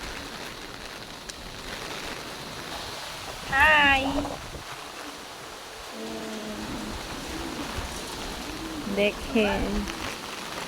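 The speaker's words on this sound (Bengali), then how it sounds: "এখন বাতাস আছে আর বৃষ্টি পড়তেছে" Wind and rain from Cyclone Remal in a coastal village at Ashashuni, a steady wet rushing wash with brief louder gusts, while a person talks nearby at intervals.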